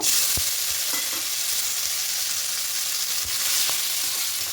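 Green peas fry lightly in oil with dried red chilli and a bay leaf, making a loud, even hiss of sizzling close up, with a few soft knocks from stirring and no voices.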